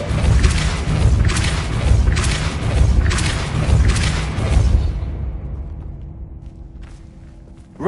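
Depulso spell being cast repeatedly in the Hogwarts Legacy video game: a run of five loud, rhythmic booming thuds about every 0.6 seconds, then a fading low rumble with a faint steady hum.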